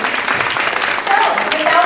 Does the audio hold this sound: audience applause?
yes